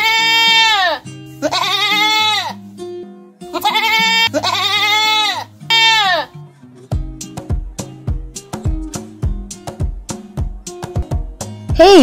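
A goat bleats in several long, wavering cries, then a series of short plucked musical notes follows, with a final bleat at the end.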